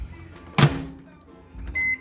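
A microwave oven runs with a low hum, broken by a sharp bang-like thud and then a short electronic beep near the end.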